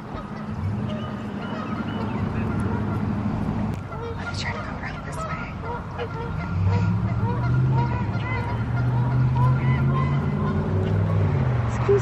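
Large wild geese honk repeatedly near a parking area at a spring event in Carlisle, with scattered calls from several birds over steady background noise, and a person speaks at times.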